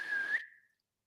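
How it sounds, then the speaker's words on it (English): A single sustained whistled note from a person inside Alcester Town Hall, steady and clear, lasting under half a second before fading into a quiet room. "If I whistle, can you whistle back?"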